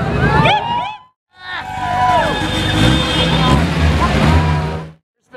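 A TechArt GT3R drives past during a Gumball rally launch, its engine note swelling and rising in pitch over a few seconds amid loud crowd chatter and hubbub.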